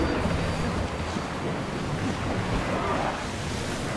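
Steady ocean waves and wind rushing around a sailing ship at sea in Assassin's Creed Odyssey, a continuous broad wash of surf and breeze with no distinct breaks.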